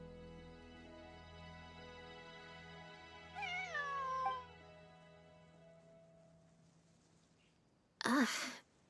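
A cat in the video game Genshin Impact lets out one clear, drawn-out meow over a quiet musical backdrop, followed a few seconds later by a short, sharp burst like a sneeze.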